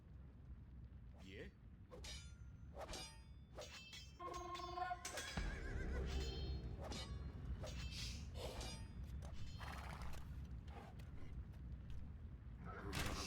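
A horse neighs loudly amid Age of Empires II: Definitive Edition game sounds, with clattering effects, a ringing tone and busy background noise.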